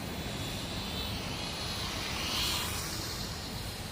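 Motors of an Attop A8 toy quadcopter run at full throttle in a steady, faint, high-pitched whine that swells slightly midway. No speech is heard.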